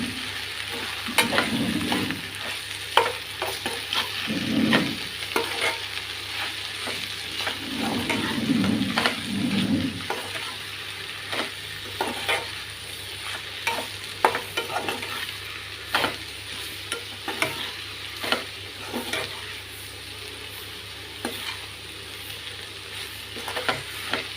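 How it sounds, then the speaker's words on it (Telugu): Okra fry seasoned with chili powder and salt being stirred in a pan, giving a continuous soft sizzle with frequent spatula scrapes and taps, fairly quiet and without talk. "ఇప్పుడు దీనిలో ఒక స్పూనుడు కారం వేస్తుంది ఉప్పు పొడి వేసి కలుపుకున్నాం"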